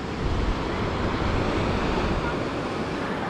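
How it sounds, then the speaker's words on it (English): Deep ocean waves break on a beach in Denpasar, Indonesia, as a continuous loud roar of surf mixed with wind buffeting the microphone, with no clear talking. "Look at some deep waves."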